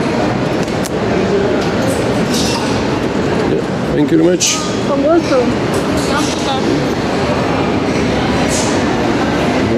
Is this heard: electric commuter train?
yes